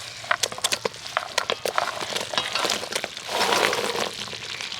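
Small fried gaja sweets tumble into hot sugar syrup in a pan, a quick run of sharp clinks and clatters followed by a brief denser wash of bubbling, close and fairly loud with no voices.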